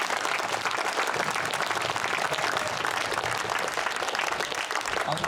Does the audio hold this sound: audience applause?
yes